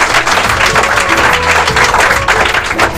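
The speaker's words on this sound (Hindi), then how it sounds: "बहुत जोरदार तालियां इसके लिए" An audience at an exam-results award event gives loud, sustained applause, dense overlapping clapping with a background voice briefly audible.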